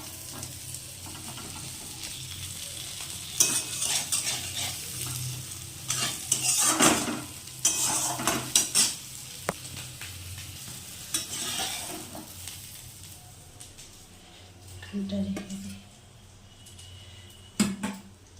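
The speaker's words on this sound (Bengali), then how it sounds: "তেলটা নিই। চলো ভালো করে ভেজে নিই মামলেটটা।" An egg omelette fries in oil in a pan, with a sizzling hiss broken by repeated scraping and stirring strokes of a spatula and occasional clinks of cookware, close and moderately loud.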